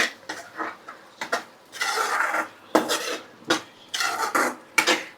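A tomato and capsicum curry being stirred in a pan, the spoon scraping and clinking against the metal in repeated close bursts with short pauses between strokes, no voices.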